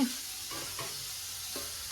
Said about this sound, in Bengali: বাকি আমাদের জন্য ভাজা করছি